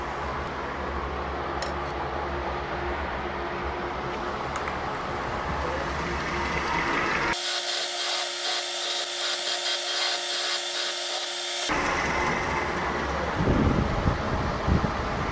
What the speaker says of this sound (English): It just got a little bit of rust on it, so I'm just going to hit it with a fine conditioning belt